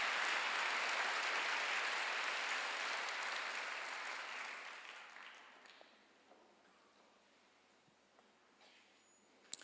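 A congregation at a Sunday church worship service breaks into applause, loud and broad at first, then thinning and fading away over several seconds to a quiet room.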